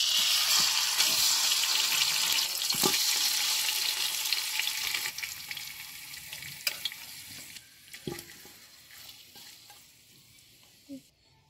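Ghee and rice frying in a pot for a home-cooked duck biryani, a steady close sizzle with scattered stirring clinks and scrapes that fades toward the end.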